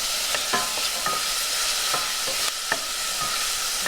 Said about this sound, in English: I'm going to add the garlic. And I'm just going to cook the garlic for about a minute.